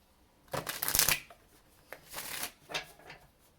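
Tarot cards being shuffled by hand for a reading, a soft close riffle of papery flicks in a few short bursts with pauses between, quiet and without talk.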